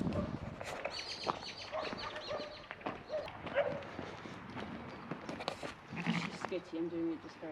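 Farm sheep bleat several times amid outdoor bustle, with short calls scattered over the clip, mixed with possible dog barks and people talking nearby.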